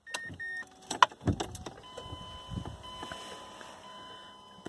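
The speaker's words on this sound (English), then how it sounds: "The pump's running." An AEM water-methanol injection pump switched on in a Mazdaspeed 3 with the ignition on: a steady, fairly quiet electric whine settles in after a few clicks and beeps, all heard from inside the car.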